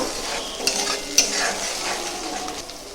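Cashew paste is stirred into a frying curry for shahi paneer malai, a low continuous sizzle with soft scraping of a spoon through the thick mixture and a couple of sharp clinks against the pan, close up.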